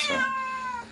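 A single cat meows once, drawn out and falling slightly in pitch, close and fairly loud against a quiet background.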